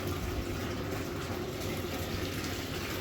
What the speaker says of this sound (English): right now I'm draining the water